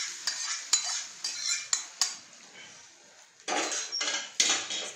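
Suji appe batter with curry leaves is mixed in a bowl, with a spoon repeatedly clinking and scraping against the sides in uneven strokes and a busier burst of stirring near the end.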